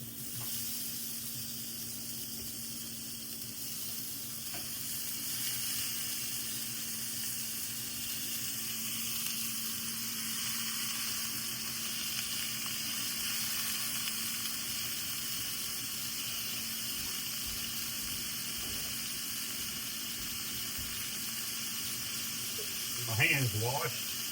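Water runs steadily from a kitchen tap while hands are washed beneath it, a continuous close hiss with a brief splashy clatter at the end.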